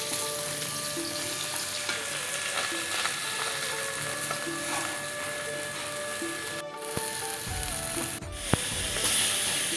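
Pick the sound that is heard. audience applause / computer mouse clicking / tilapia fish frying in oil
tilapia fish frying in oil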